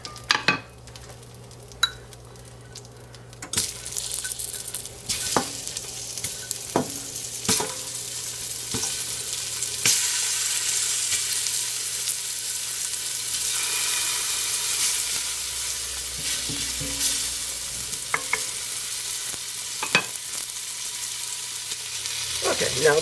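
Batches of meat browning in a pot for a Jamaican dish, a continuous close sizzle with scattered clanks and scrapes of a utensil against the pot.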